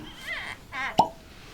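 A cork is pulled from a bottle of Dalmore 17-year-old whisky, giving a single short, hollow pop between brief stretches of voices.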